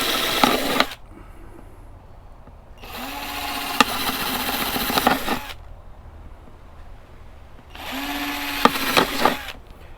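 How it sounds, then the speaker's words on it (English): Power drill fitted with a 3/8 inch spade bit boring holes outdoors, with three loud whirring bursts separated by quiet gaps, each run rising in pitch as the motor spins up. "I put this this little spade bit on here, 3/8 inch spade bit on my drill."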